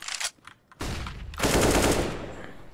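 Automatic rifle fire in the video game CS:GO, several rapid bursts of close, loud shots separated by a short pause, with the last long burst trailing off into echo.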